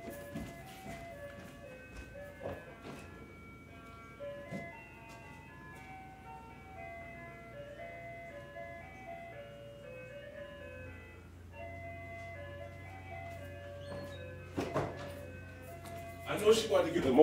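An ice cream truck's melody plays in a neighborhood, steady and moderately close, with a low rumble growing louder toward the end as the truck nears, while people talk over it.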